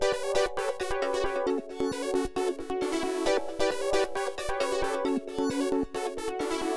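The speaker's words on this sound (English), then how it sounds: "I went back into Triton and I grabbed this D-Tune leader preset and laid out this little pattern" A detuned synth lead from the D-Tune lead preset in Triton plays a short, catchy repeating two-bar pattern of quick bright notes, steady and loud in a hip-hop beat context, with no voices.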